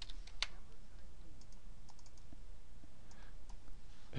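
Quiet clicking of a computer keyboard during spreadsheet work in Excel, with scattered soft key taps over a faint background hum.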